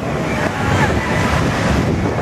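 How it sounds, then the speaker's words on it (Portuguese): Sea waves wash steadily on a windy Florida beach at Panama City, with heavy wind buffeting the microphone in a constant loud roar and surf blended underneath, no clear talk. "Vamos ter aqui um pequeno contato com o mar de Panamaciri, Flórida. Muito vento."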